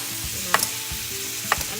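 Onions and garlic sauté in a pan for a red and yellow lentil dal soup, a steady close sizzle broken by a couple of sharp stirring clinks, with no voices.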